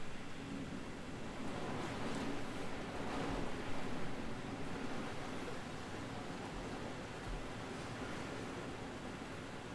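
Steady rushing water, like heavy rain or running water, fills the background with a dense, unbroken hiss at even loudness throughout.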